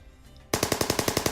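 M249 machine gun opening fire abruptly after a quiet moment, a rapid, evenly spaced burst of about eight loud, close shots.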